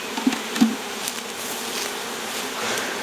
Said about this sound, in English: Are they all swarming to get out?